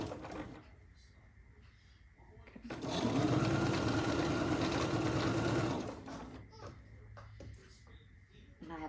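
A sewing machine stitching quilt block pieces runs in one steady, loud burst of about three seconds. Quieter handling noises and a faint voice come before and after it.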